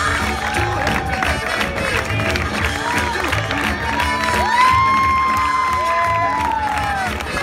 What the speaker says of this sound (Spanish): Fuerte, fuerte, fuerte, fuerte ese aplauso